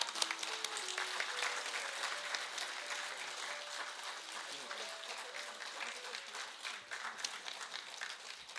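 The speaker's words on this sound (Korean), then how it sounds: "구청장님께서 들어오시겠습니다. 큰 박수로 부탁드리겠습니다." Audience at a senior welfare benefits briefing applauds steadily to welcome the district mayor, a continuous soft wash of clapping while background music with a simple melodic line plays underneath.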